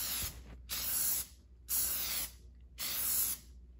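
Spray paint hissing from an aerosol can onto a car emblem, three separate bursts of about a second each with short silent gaps between, close and bright.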